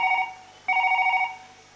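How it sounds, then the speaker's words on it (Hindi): A telephone rings indoors in two loud electronic bursts, the second following after a short gap, with no voices over it. "हमर ससुराल फोन लगाएंगे"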